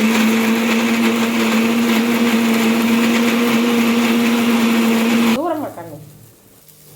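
A mixer grinder grinds spices for brinjal tamarind curry, whirring with a loud, steady high-pitched hum for several seconds before the motor is switched off and winds down abruptly.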